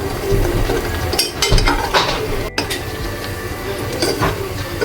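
Fried pitha cakes made from flour and potato lifted out of a pan one by one, with close clinks and scrapes of a utensil against the pan and a sizzling, stirring clatter over a few seconds.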